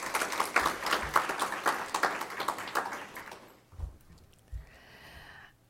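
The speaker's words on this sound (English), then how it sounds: "let's give our panelists a round of applause" An audience claps for a panel, dense applause that fades out after about three seconds, followed by a few scattered thumps and low room noise.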